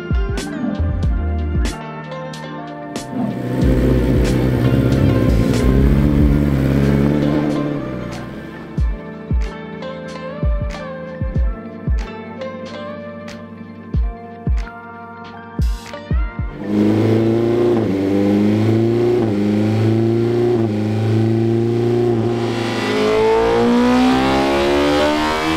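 A BMW S 1000 RR motorcycle engine runs on a dyno with an end can exhaust, revving hard and high with several sharp blips, then climbing in a long rising wail, loud and close with no talking.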